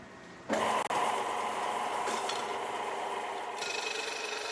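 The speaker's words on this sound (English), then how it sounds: "This abrasive cut-off wheel will slice right through the weld, separating the rough knife blank from the handle rod." An abrasive cut-off wheel grinds through the weld joining a rough forged knife blank to its handle rod, starting with an abrupt bite into a loud, sustained high-pitched whine that holds steady to the end.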